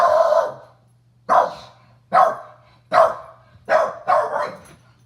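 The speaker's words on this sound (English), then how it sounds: "hold on, that's my dog." An old dog barks six times in loose, irregular bursts nearby, each bark loud and sharp and followed by a short pause, with a steady low hum running underneath throughout.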